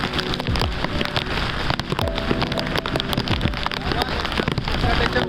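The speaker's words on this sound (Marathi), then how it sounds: "पाऊस असा पडतो, असा पडायला लागला आहे" Heavy monsoon downpour in Nalasopara, dense steady hiss of rain with loud splattering drops on surfaces, close and continuous, with faint voices underneath.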